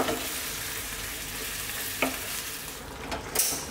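Ground chicken chili bubbles and sizzles steadily in a pan, with a few sharper scraping taps from stirring toward the end; a close, continuous cooking hiss with no voices.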